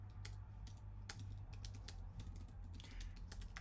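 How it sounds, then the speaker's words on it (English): Quick, uneven clicks of typing on a computer keyboard, faint and close, with a low steady hum underneath. "then you can type in here,"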